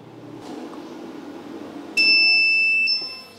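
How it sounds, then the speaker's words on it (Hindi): Solar inverter beeps once while switching to hybrid mode, a sharp, loud electronic tone lasting about a second over a low indoor hum. "बीप की आवाज आ गई है और लाइट है वो स्लो ग्लो कर रही है"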